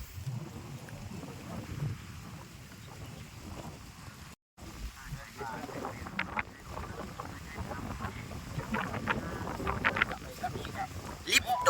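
Gusty wind rumbles and buffets the microphone outdoors during freshwater fishing, a steady broadband roar that swells toward the end, with a brief dropout midway and people talking over it.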